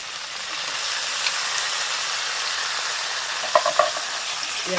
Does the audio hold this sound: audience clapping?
no